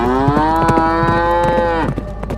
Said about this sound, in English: suddenly a herd of cows ran into the field